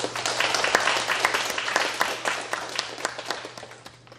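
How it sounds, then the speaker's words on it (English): Audience at a political science conference applauds staff members, a dense burst of many hands clapping in a hall, steady then slowly thinning toward the end. "give the big applause to my staff members"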